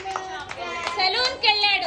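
Schoolchildren in a classroom clap for a classmate, scattered hand claps popping out amid a lively chorus of high children's voices.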